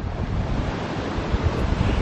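Strong wind buffets the microphone over steady crashing surf at a beach, loud and continuous with no voices.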